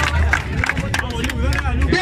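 Crowd applause and cheering at a freestyle rap battle final, steady clapping with crowd noise and shouts filling the space throughout.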